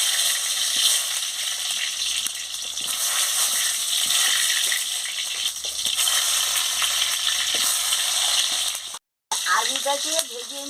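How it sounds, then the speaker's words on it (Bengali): Potatoes fry in hot oil in a wok, a loud continuous sizzle with scraping stirs throughout; near the end the sound briefly cuts out before the crackle returns. "আমি আলুটাকে ভেজে নিচ্ছি"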